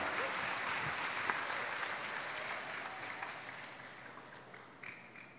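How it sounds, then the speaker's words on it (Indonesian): Guests at a university faculty opening ceremony for new-student orientation applaud steadily, a dense sustained clapping that gradually fades toward the end, with no talk over it. "Boleh Bapak dan Ibu seluruh tamu undangan berikan aplaus yang paling meriah"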